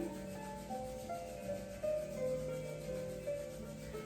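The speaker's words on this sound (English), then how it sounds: "go ahead and start to rub your hands together, feeling heat and friction" Quick, steady rubbing of two palms together, a soft continuous friction swish with slight rhythmic surges, close and fairly quiet with no talk over it.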